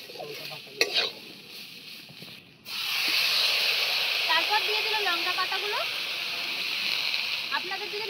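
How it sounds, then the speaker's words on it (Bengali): Chilli plant leaves hit a pan with potato and shrimp, bursting into a loud, steady sizzle after a quieter start with a few clinks and voices. "দিদা এবার আলু আর চিংড়ি মাছের সঙ্গে ভালো করে এই লঙ্কা গাছের পাতাগুলোকে ভালো করে একটু ভাজা"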